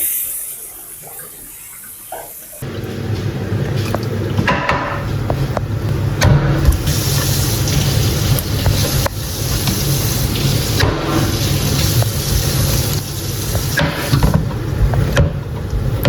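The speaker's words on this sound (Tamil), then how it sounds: "நாங்கள் இப்போ ஹாட் வாட்டர் ஆட் பண்ணி அதை வந்து அந்த நார்மலான பதத்துக்கு கொண்டு வர்றோம்" Hot water poured over frozen chicken in a container to thaw it for biryani, a loud, close, continuous gush and splash that starts abruptly after a quiet opening and runs steadily to the end.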